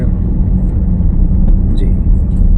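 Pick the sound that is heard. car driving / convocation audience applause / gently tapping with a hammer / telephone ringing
car driving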